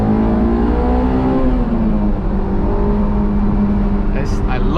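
A Honda S2000 with a manual gearbox pulls hard under acceleration, its engine note droning and rising loudly from inside the cabin, with speech running over it.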